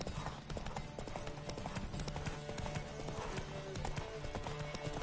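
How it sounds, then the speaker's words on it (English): Hooves clip-clop in a fast, steady galloping rhythm during a horse race in the video game The Witcher 3: Wild Hunt, close and continuous over a bed of ambient game noise. "não estava à espera de fazer uma corrida de cavalos agora"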